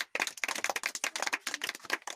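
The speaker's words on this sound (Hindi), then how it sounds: "तालियां के लिए" An audience claps for a winner at a charity organisation's founding ceremony. The claps are quick and scattered, fairly close, and they start suddenly and keep going at a brisk, uneven rhythm for about two seconds.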